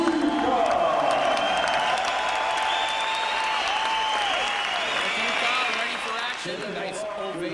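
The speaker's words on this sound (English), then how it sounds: "A nice ovation from the crowd here at the Pierre Charbonneau Center." Boxing crowd at the Pierre Charbonneau Center in Montreal applauding and cheering in a steady, dense ovation that fills the arena, easing slightly toward the end, with faint voices mixed in.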